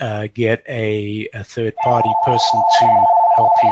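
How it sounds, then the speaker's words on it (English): A telephone rings with a steady electronic trill that starts partway through and continues under a man's speech during an online business webinar. "that was my phone ringing"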